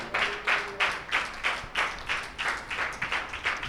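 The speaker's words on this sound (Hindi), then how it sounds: "तालियां बजाएं अपने खुदावन के लिए।" Church congregation applauding steadily in a rhythmic pattern of repeated clap waves, moderately distant, with no talking over it.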